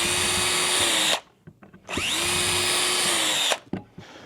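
A power drill whines loudly twice, drilling small holes in a board for a beehive stand, each burst running for more than a second and winding down, with short clicks and taps in between.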